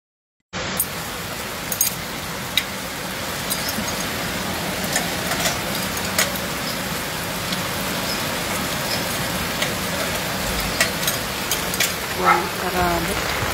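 Heavy rain pours down in a dense, steady roar that runs without a break for the whole stretch, with occasional louder drips and taps standing out close by.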